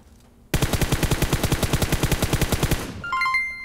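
Rapid video game automatic gunfire from a shotgun and a Vector, a loud steady burst of about two dozen evenly spaced shots lasting a couple of seconds, trailing off into a short electronic chime.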